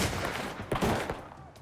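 A rapid burst of several sharp gunshots crackles in a short exchange of fire during a shootout involving a Johnson County sheriff's deputy, loud and without speech.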